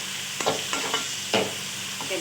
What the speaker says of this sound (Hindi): ये प्याज को हमने 5 मिनट भूनना है